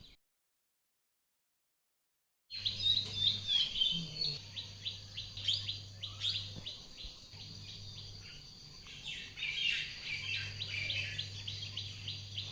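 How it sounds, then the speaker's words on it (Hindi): Outside in a courtyard, birds chirp and tweet continuously in quick high trills, with insect-like chirring underneath and a steady low hum, fairly faint and with no talk. "बाहर चिड़ियाँ चहचहा रही हैं"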